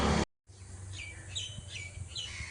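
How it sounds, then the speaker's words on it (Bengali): Birds chirp on a misty morning, repeated bright tweets and short trilling calls, fairly close and clear over a soft steady background hiss, with no one speaking. "পাখিরা যেন আজকে একটু আনন্দই করছে নাকি"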